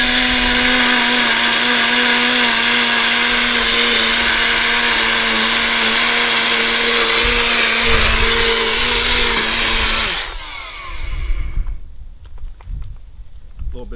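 A blender grinds crocodile biscuits into reptile food with a loud, steady motor whir for about ten seconds, then cuts out, leaving rattling and settling noise behind.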